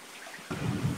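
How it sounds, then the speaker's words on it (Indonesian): Rain falling during an Indonesian online church service, a soft hiss that turns into a steady, louder broadband patter halfway through with no voices over it. "di tempat kakak lagi hujan"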